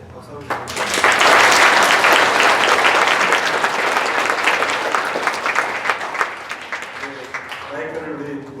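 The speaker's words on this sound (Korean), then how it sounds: "박수 한번 주세요" Audience applause at a Korean talk concert, a sustained burst of clapping from a crowd that swells quickly and then tapers off, with a voice briefly speaking near the end.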